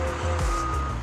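A forklift truck inside a Volvo truck factory sounds a steady, loud reversing beep, close by, over a low engine rumble and general factory drone.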